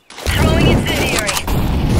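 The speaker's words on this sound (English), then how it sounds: "Throwing incendiary." Incendiary grenade thrown in Counter-Strike on the Inferno map, a sharp mechanical clatter followed by a loud crackling, hissing burst of fire that keeps burning steadily, with a teammate's voice briefly underneath.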